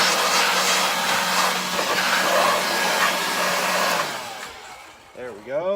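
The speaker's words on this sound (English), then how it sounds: "Got my trusty blower here." A handheld blower rushes in a loud, steady, close roar as it clears dust from a car battery and its terminal area, then winds down and fades out near the end.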